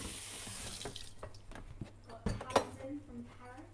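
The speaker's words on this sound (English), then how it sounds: "Right, give this a little rinse." A kitchen tap runs briefly as something is rinsed at the sink during cooking, a splashing water sound with a few clinks, mixed with background talk.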